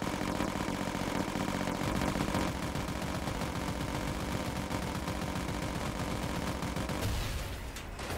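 Dense, continuous rapid gunfire and explosions from a battle with tanks in the military strategy game Forward Defense, loud and sustained, with engine rumble underneath, thinning out near the end.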